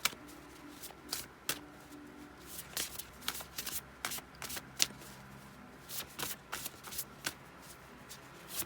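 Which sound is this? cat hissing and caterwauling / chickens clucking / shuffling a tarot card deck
shuffling a tarot card deck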